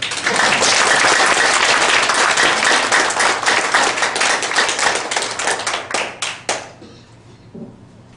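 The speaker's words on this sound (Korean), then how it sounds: "이 박수 소리는 더 힘차게 소화도 할 겸 한 번 더 쳐주십시오." Vigorous audience applause at a breakfast lecture forum, a thick roar of clapping that thins into scattered individual claps and dies out, followed by near silence with a last few stray claps.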